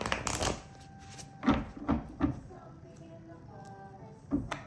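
A deck of tarot cards being shuffled by hand in a quiet room: soft riffling and several sharp slaps and taps at irregular intervals, close and fairly quiet.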